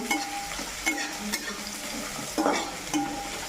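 Onions sizzle in a hot pan while a spoon stirs them, a continuous frying hiss broken by several clinks and scrapes against the pan.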